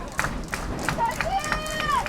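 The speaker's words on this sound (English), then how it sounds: "Crowd starting to get into it a little bit as well." Crowd at a softball game, a murmur of fans with scattered claps and whoops rising through a steady babble of voices, plus a few whistles.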